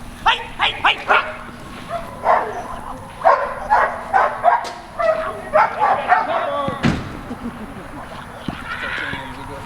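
A dog in a training session lets out a run of sharp, rhythmic barks close by, followed by more scattered barking, a loud thump, and quieter movement outdoors.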